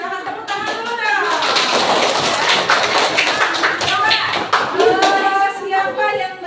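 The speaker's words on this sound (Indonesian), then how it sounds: "Oke, silahkan tepuk tangan dulu dong." A group of trainees claps hands together during an on-the-job training session, sustained dense clapping for several seconds with children's and adults' voices talking and calling out over it.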